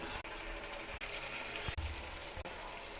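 Water pours steadily into a pan of chicken curry, a continuous gushing splash lasting a few seconds with small breaks, fairly quiet and without talk.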